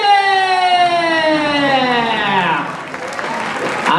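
Audience applause after a locking dance battle final at the WDC 2015 competition. Steady clapping runs throughout, with a loud sustained tonal sound sweeping over it for the first half before the clapping continues alone.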